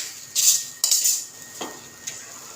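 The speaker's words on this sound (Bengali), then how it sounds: "তো এইভাবে কিছুক্ষণ নাড়াচাড়া করে সম্পূর্ণ রেডি হয়ে যাবে পুর।" A few bright metal clinks and scrapes of a spoon in a pan as mini singara filling is stirred, close and fairly loud, with short bursts separated by quieter pauses.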